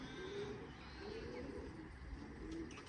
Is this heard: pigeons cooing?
yes